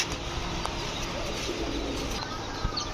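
A female short-faced pigeon coos amid a crowded pigeon loft, its soft calls blending into dense, steady background noise with faint wing flutters.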